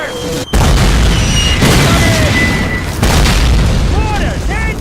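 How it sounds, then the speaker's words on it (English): Mortar explosions in a Call of Duty game roar as heavy, loud, continuous booms with a brief gap near the start, while soldiers shout over the barrage. "The Germans off the streets! Mortars!"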